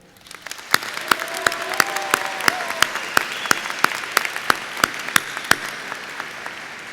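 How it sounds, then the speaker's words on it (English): Graduation crowd applauding at a 2017 Canyon Lake High School ceremony, sustained clapping from a large audience with sharp individual claps standing out, steady for several seconds before thinning toward the end. "would y'all please give a round of applause to all those folks that made that village a reality"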